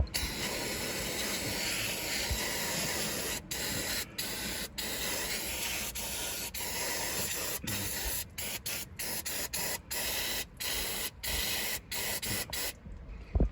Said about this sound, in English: First step, I'm going to clean it with some degreaser.